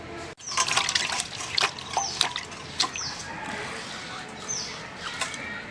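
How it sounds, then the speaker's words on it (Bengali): Water splashing and pouring as a stone grinding slab and pestle are rinsed, with uneven bursts of wet sloshing, drips and clatter close by, no talking. "পাটা পুতা ধুয়ে নইলাম।"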